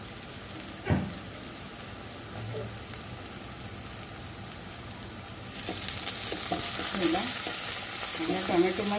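Onion and tomato cook in a pan, a soft low sizzle with a couple of utensil knocks early, then a louder, brighter crackling hiss builds over the second half.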